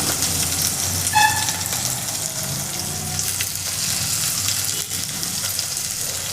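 Onions sizzling in oil with whole spices in a pan for a chicken gravy: a steady, dense crackle and hiss, close and continuous throughout, with a faint clink of utensils early on.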